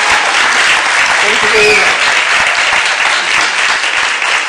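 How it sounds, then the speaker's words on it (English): A studio audience applauds a special guest on a Cape Town television interview program, a dense steady wash of clapping throughout while a voice speaks over it. "A round of applause to our special guest."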